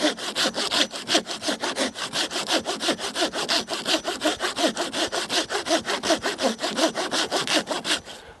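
An old, shorter Fiskars hand saw with a tired, thin blade cuts through wood in fast, steady back-and-forth strokes, close and loud, with no voices.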